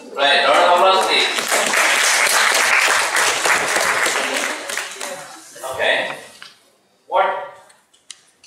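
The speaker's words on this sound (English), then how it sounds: "round of applause, please" An audience breaks into loud, dense clapping at a communication skills session. The clapping fades after a few seconds, and short bursts of speech come in between.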